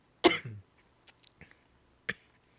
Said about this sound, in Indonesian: batuknya ini juga bukan karena virus ataupun udara